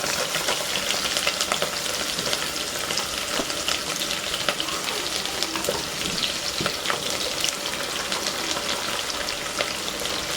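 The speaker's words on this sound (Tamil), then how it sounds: "எடுத்து வச்சுருக்க மிச்ச சின்ன வெங்காயம், கருவேப்பிலை ரெண்டுத்துலேயும் இதில் போட்டு கொஞ்சம் நல்லா வதக்கி விடுங்க" Small onions (shallots) and curry leaves sautéing in oil for a raw-mango fish curry, a dense, continuous crackling sizzle with occasional stirring scrapes, close and steady for the whole stretch, no talking.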